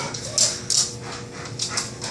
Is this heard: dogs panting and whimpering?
yes